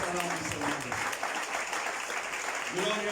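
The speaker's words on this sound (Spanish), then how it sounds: "Dale el aplauso si se lo vas a dar" A church congregation applauds in a sustained wash of clapping, with a preacher's voice speaking over the start and again as it fades.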